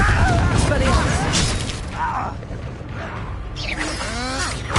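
Blasting spell going off in a Hogwarts Legacy fight: a burst and rumbling impact with clattering debris, while voices and game dialogue talk over it.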